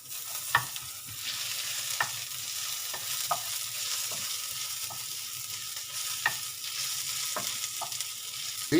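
Onions frying in a pan for Bavarian currywurst, a steady bright sizzle with occasional scraping stirs and light utensil taps, close and continuous, no talking.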